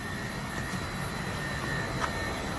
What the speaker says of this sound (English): That's the fan just cranking.